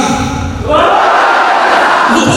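A large seminar audience shouts a loud answer to a greeting, a roaring burst of many voices that swells suddenly after a brief pause and holds strongly to the end.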